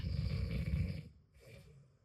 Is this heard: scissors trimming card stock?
no